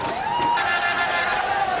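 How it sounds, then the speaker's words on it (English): Stadium crowd at a 1998 Sharjah cricket match cheering Sourav Ganguly's half-century against New Zealand, a steady, loud roar of massed voices that holds through the whole moment. "a big sigh of relief and a big cheer for Ganguly, who's brought up his half-century"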